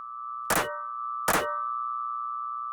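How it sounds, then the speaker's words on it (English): Two sharp metallic strikes, spaced under a second apart, each leaving a sustained synthetic ringing tone that hangs steadily in otherwise quiet surroundings. "there's that ringing sound here that we want to turn down"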